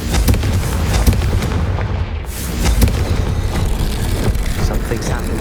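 In Hogwarts Legacy, the Confringo spell sets off a loud, booming fiery blast that rolls into dense, continuous crackling and rumbling, with game voices over it.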